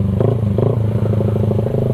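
A Suzuki Raider 150 carbureted motorcycle fitted with a Creed aftermarket exhaust pipe rumbles loudly and steadily up close, its deep throbbing note pulsing with slight rev swells throughout.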